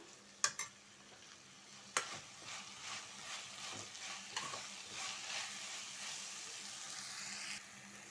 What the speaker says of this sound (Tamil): நம்ம கட் பண்ணி வச்சுருக்க இந்த வெண்டைக்காயை சேர்த்துக்கலாம் இதை நல்லா நம்ம கொஞ்சம் வதக்கிக்கலாம்